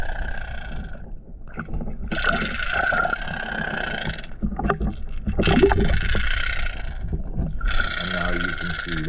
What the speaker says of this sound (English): That's the Redeye Shed, and the vibration and the rattling sound that the Redeye Shed makes.